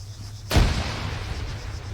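A grenade bursts in the military shooter Arma 3, a sudden loud boom followed by a long rumbling decay that fills the rest of the moment.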